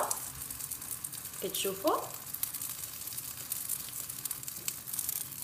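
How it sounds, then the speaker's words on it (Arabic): Dough frying in a pan greased with oil, a soft continuous sizzle with faint crackles, joined by a woman's brief speech partway through. "غادي نرش المقلاه بحال ما هكذا بالزيت، وغادي نضيف العجين بحال ما هكذا"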